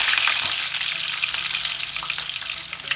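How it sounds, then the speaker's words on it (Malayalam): Curry leaves and garlic cloves fry in hot oil with popped mustard seeds, giving a loud continuous close sizzle with crackling pops and a brief stir, with nobody talking. "ഈ പൊട്ടിയ കടുകിലോട്ട് 1 തണ്ട് കറിവേപ്പില ഇട്ട് കൊടുത്ത് ഇതിനകത്ത് ചെറിയ വെളുത്തുള്ളി, ഒരു 5-6 കഷ്ണം വെളുത്തുള്ളി ഇട്ട് കൊടുത്ത്"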